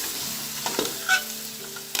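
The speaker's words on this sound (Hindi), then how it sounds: "अब हम चमचे से अच्छे से इसको मिक्स करेंगे" Nihari meat frying in masala is stirred with a spoon, giving a steady sizzle with soft scraping and clinking of the spoon against the pan, heard close up with no talking.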